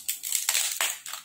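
Ice cubes dropped into a glass for a dalgona coffee smoothie, making four or five crisp, crunchy clatters in an uneven sequence, close and moderately loud, with no voice over them.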